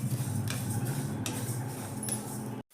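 Flaxseeds dry-roasting on low gas in a pan, stirred with a utensil: a steady dry rustle and scrape with a few light metallic clinks, close and continuous, with no voices.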